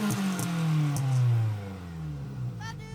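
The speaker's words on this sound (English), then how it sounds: "I'm pretty sure it's just got a straight through exhaust. So although it's 50 horsepower, it sounds like 500 horsepower." A 50-horsepower car with a straight-through exhaust revs up loudly and then lets the revs fall away in a deep, raspy drone. The car is close by and no one speaks.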